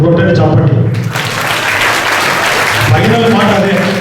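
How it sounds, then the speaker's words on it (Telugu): A crowd at an educational institution's awareness meet breaks into loud, dense applause. It swells and holds as a continuous wash of clapping, with voices mixed in at the start and near the end. "ఇప్పుడు కొట్టండి చప్పట్లు."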